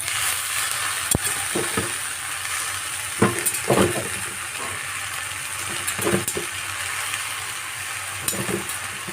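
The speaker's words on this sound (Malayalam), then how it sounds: "ഇനി ഇതിലേക്ക് മുരിങ്ങയില ഇട്ട് കൊടുക്കാം" Drumstick (moringa) leaves are tossed into a hot pan and stirred, giving a steady loud sizzle broken by repeated scraping and light clinks of the spoon.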